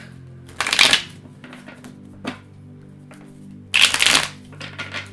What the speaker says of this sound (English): my cards are like being blown over as I'm shuffling